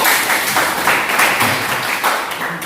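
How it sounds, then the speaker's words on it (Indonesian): A dense burst of clapping from a group, steady and sustained throughout with no voices over it. "Oke, terima kasih, tepuk tangan."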